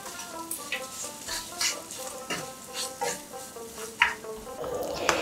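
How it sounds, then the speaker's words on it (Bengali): Sugar, salt and raisins are stirred in a frying pan with oil before chickpea dal goes in for Bengali cholar dal, a faint sizzle under soft, irregular scrapes and clinks of a spatula. "এগুলোকে হালকা নাড়াচাড়া করে আমি ডালটা দিয়ে দেবো"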